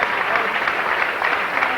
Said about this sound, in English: a nice applause